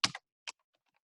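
A few quick keystrokes on a computer keyboard, a short close cluster of clicks followed by a single tap after a pause, with faint ticks trailing off.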